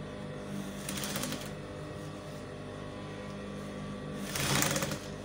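A sewing machine stitching the armhole of a baby dress, close and clear, running in two short bursts of rapid clattering with a quieter pause between them.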